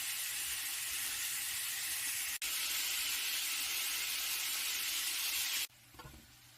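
Ground beef sizzles in a pan with makaroni, salt and onion, a steady, close hiss of frying that cuts briefly, resumes, then drops off to quieter stirring at the end.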